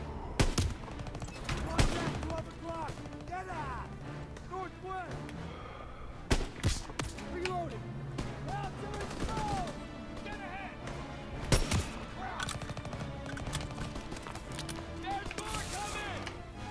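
Gunfire in the Call of Duty: WWII campaign's Death Factory battle, with scattered sharp shots and heavy thuds breaking through urgent voices and a steady background din.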